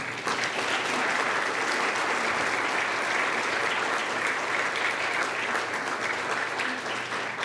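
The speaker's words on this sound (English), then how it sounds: "Please join me with a round of applause" Audience applause at a high school National Honor Society induction ceremony, steady dense clapping from a large crowd that holds at full strength for the whole stretch without easing off.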